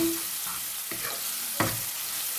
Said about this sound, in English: For my stew, I just want it to simmer.